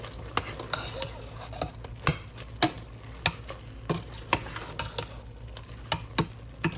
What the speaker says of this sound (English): Okay, so we'll go ahead and get that stirred in.